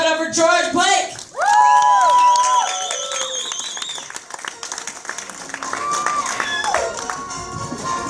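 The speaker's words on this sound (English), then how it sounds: "Everybody clap it up for George Blake" Crowd at a comedy show whooping, cheering and clapping for a comedian as he is introduced, a loud burst that surges then settles into scattered applause and voices.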